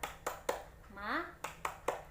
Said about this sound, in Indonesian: Nah ibu-ibu kita tepuk semangat dulu.